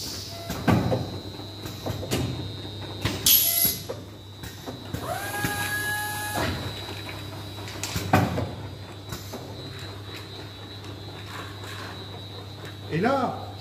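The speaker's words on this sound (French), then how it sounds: "mon vérin va venir positionner les couvercles sur les pots" An automatic pneumatic capping machine sets lids on pots and screws them down, giving intermittent mechanical clunks, hisses and short whirring bursts over a low steady hum.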